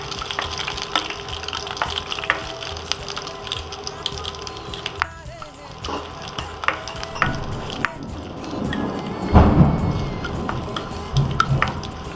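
Ingredients sizzle in hot oil in a pan for a Kottayam-style tomato buttermilk curry as they are stirred toward golden brown: a steady close crackle broken by scraping stirs and a louder burst of sizzling near the end.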